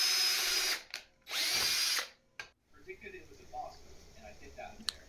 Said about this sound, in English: So a quick drill through the copper.